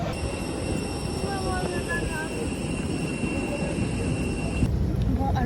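Airplane cabin after boarding on a flight home from Corsica: a loud, steady engine and ventilation drone with thin high whining tones runs throughout, with faint murmuring voices in the background.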